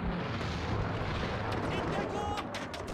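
Continuous heavy gunfire and booming artillery in the video game Call of Duty 3 on PS2 make a dense, loud rumbling battle din with sharper shots cracking through near the end.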